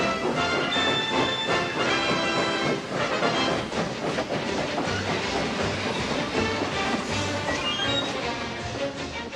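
A train runs steadily on rails, a continuous loud rumble with rhythmic clickety-clack and hiss, no voices.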